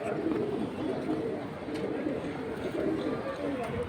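Pigeons cooing at a bird market where military and silver breeds are sold, soft repeated coos under steady chatter of people nearby.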